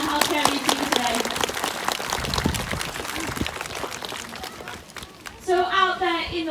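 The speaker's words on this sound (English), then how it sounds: "If we can give them both a massive round of applause for demonstrating their healthcare routine today" A zoo audience applauds after a sea lion demonstration, giving broad, continuous clapping with crowd noise. A voice talks over it, and near the end a brief louder patch of chatter and movement follows.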